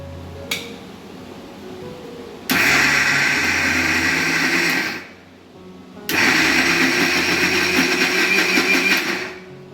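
An electric grinder turns soaked masoor and matar dal with salt and a little turmeric into a coarse paste, whirring loudly and close in two steady runs separated by a brief pause.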